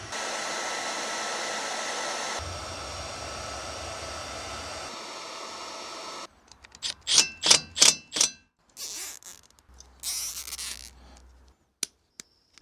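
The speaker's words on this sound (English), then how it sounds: "now we shrink wrap all the butt connectors" A heat gun blows with a steady roaring hiss for several seconds, shifting pitch, shrinking butt connectors during trailer wiring work, then cuts off, followed by clicks and short bursts of handling noise.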